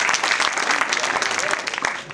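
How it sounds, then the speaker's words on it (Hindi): An audience at a village religious gathering claps together loudly and continuously, a dense burst of close applause that tapers off near the end. "ताली बजाना पड़ेगा।"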